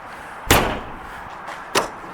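A Mesa Ridge 375RDS travel trailer's door is pushed shut twice, two sharp, close slams about a second apart over a quiet background hum.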